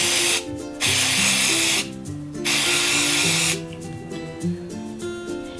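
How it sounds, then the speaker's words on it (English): Spray paint hissing over a stencil laid on card, in several long bursts with short pauses between, loud and close, with faint mechanical rattles under it and no talking. "you put your stencil on top of the card, grab your spray paint"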